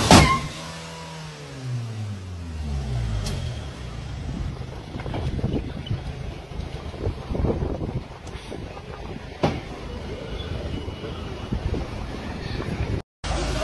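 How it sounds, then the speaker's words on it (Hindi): A brand new car, just out of the showroom on delivery, hits a wall as it pulls away; a low engine rumble with a short bump and rattling, under steady wind and outdoor noise, no talk. "एक ड्राइवर डिलीवरी के दौरान अपनी ब्रांड न्यू कार में बैठता है और बाहर निकलते ही कार को दीवार पर ठोक देता है"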